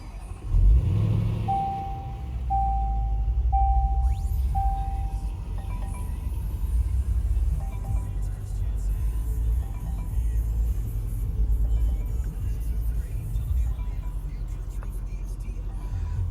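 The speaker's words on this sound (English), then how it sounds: "I'm gonna fire it up." A 2018 Range Rover Sport Supercharged 5.0 V8 starts with a chime sequence, then the engine settles into a deep, steady rumbling idle heard close by for several seconds.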